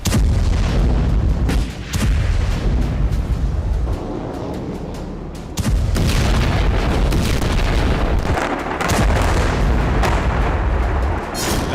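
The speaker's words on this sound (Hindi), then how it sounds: "ताबड़तोड़ बमबारी" Relentless artillery bombardment, with heavy booms and explosions following one another, loud and continuous with a dense rumbling background and brief lulls between blasts.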